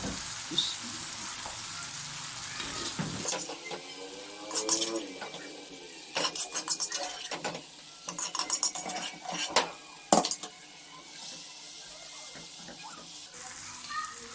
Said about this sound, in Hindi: अभी मैं डालूँगी इसमें गोश्त।